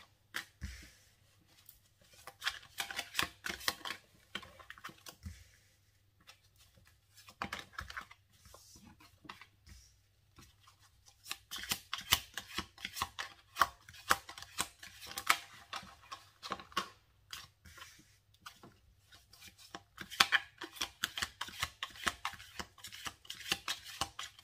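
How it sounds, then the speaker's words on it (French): Tarot cards shuffled and drawn over a long stretch, a steady run of soft papery flicks and snaps in quick irregular bursts with brief pauses, close and fairly quiet. "on tire 5 cartes pour voir le silence radio"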